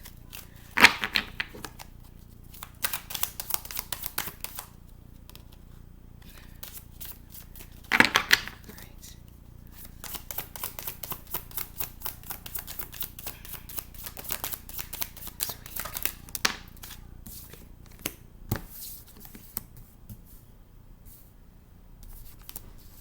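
Tarot cards being shuffled close up, with repeated crisp riffling and flicking bursts spread across the span, fairly faint, with occasional soft handling sounds between runs.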